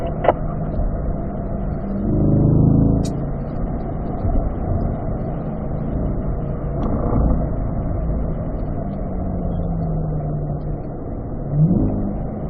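Car engine accelerating out of a corner on a race track during a track session, a loud continuous in-cabin drone with rising engine tones near the start and again at the end, no talk.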